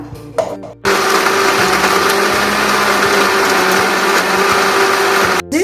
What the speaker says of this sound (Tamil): இதை வந்து மிக்சியில் வந்து ட்ரான்ஸ்ஃபர் பண்ணிக்கலாம் இதை நைஸாக வந்து அரைச்சி எடுத்துக்கலாம்